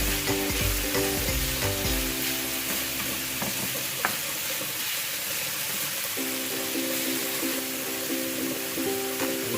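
Chicken, broccoli and garlic fry in a pan with a loud, continuous sizzle, while stirring makes clattering scrapes early on.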